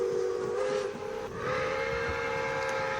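Pere Marquette 1225 steam locomotive sounds its whistle in one long, loud, sustained blast with a steady pitched tone and breathy steam hiss, briefly dipping midway before holding on. No voices.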